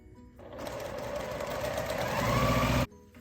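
A sewing machine stitches a quilt block in one close, continuous run of rapid whirring that rises slightly in loudness before stopping abruptly.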